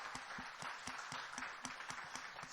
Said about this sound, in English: can we just give that a round of applause?